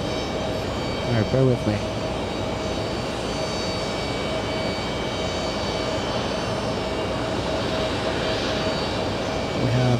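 An airplane at JFK airport rumbles steadily past for the whole stretch, a broad sustained engine roar with a person speaking briefly over it near the start and end.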